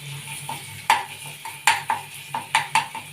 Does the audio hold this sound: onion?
yes